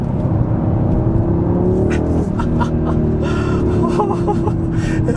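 2022 Audi RS3 heard from the cabin while cornering, a loud steady engine drone with the pitch dipping and climbing again, plus some breathy noise from the occupants.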